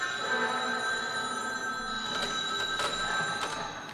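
Old-fashioned telephone bell ringing in a 1940s radio drama detective scene, a steady continuous metallic ring with rhythmic bursts, fairly loud and close, no voices over it.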